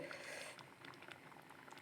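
Coconut milk gravy with mackerel simmers in a small pot, giving a faint, steady bubbling and soft popping patter heard alone.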